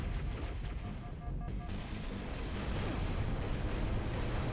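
A grenade goes off in the co-op shooter GTFO, a dense, sustained rumbling blast of low-end roar that fills the whole stretch with steady loudness, with no voices over it.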